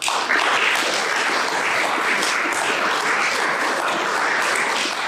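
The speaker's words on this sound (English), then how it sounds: "Give them a warm round of applause." Audience at a nuclear energy panel discussion gives the speakers a warm, continuous round of applause, dense and even clapping from a roomful of people throughout.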